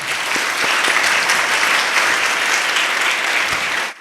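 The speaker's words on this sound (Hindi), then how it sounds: "सारे माँ प्यो लिए जरा भरपूर तालियां" Dense, steady applause from a church congregation at a Mother's Day Easter Mass in St. Clare Parish, Lahore, clapping for parents. It fills the space loudly for about four seconds before stopping abruptly.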